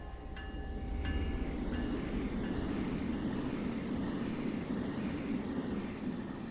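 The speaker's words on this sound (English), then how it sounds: "let's watch the train going past" A train in the Train Sim World 2 game on the Peninsula Corridor storms past as a steady, loud rumbling roar, with a few brief tonal squeals near the start, filling the whole stretch without talk.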